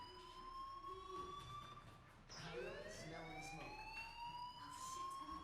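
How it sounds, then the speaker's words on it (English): A fire alarm rings steadily in the video game Life is Strange, a loud continuous electronic tone with a rising sweep partway through, heard over a busy indoor game background. "do you hear that fire alarm?"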